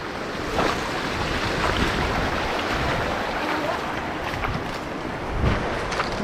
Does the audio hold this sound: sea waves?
yes